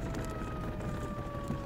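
Fire truck sirens wail steadily as the engines arrive at a fire at a compound, a sustained rising-and-falling tone over continuous low rumble and background noise, fairly distant and not very loud.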